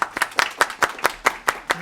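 Committee members clap as a director arrives at a juvenile justice meeting, a small group of hands giving about nine distinct, fairly close claps in an uneven rhythm, with faint talk beneath.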